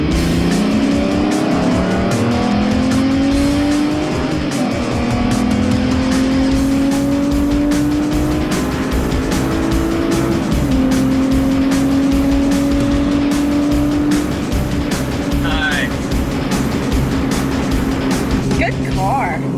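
A Lamborghini and a Lexus drag race, engines roaring loud and continuous as they rev and shift up through rising gear changes, with tire noise throughout.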